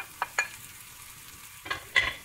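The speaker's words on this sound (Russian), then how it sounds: "И, конечно же, обжаренный чеснок. Все это жарю я вместе." Onion and garlic sizzle softly in a pan with a few sharp crackles and stirring sounds, quiet and close, with no talking.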